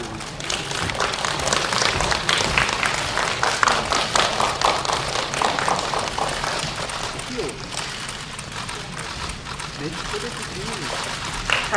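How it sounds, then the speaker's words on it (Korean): Press-conference audience clapping as actors enter for a film press screening, a long steady run of applause mixed with murmured voices and faint talk. "큰 박수로 맞이해주세요."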